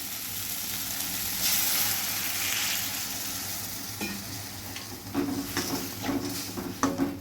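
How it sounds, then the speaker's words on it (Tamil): Loud sizzling fills a hot pan as water hits it while cooking Tamil sundakkai kuzhambu, the hiss swelling and easing, followed by scraping and clinking as the contents are stirred. "இப்போது இதில் கொஞ்சம் தண்ணி சேர்த்துக்கலாம்"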